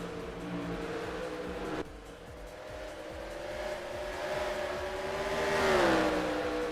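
ARCA race cars battle side by side at Berlin Raceway in a racing game, their engines holding a steady high whine that dips at a gear change and then climbs and sweeps as the cars pass, loud and continuous.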